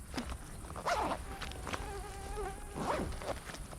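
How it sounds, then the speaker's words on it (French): Mosquitoes whine in close, faint buzzing passes around people standing near raised beehives on stilts in a marsh, the thin drones rising and fading over quiet outdoor background. "il y a une dizaine de moustiques qui nous tournent autour"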